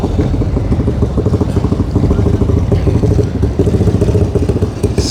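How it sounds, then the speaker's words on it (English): Small racing engine at a sprint meeting, revving with a buzzing, lawnmower-like rasp; loud and close, sustained throughout with rapid pulsing. "Sounds like a lawnmower engine."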